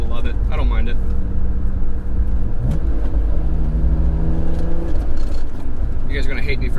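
A BMW S54 engine drones with a raspy, rumbling tone at steady revs, fairly loud, while someone talks over it.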